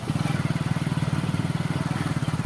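A motorcycle engine runs steadily nearby, giving a loud, throbbing idle-like putter with a fast regular pulse throughout.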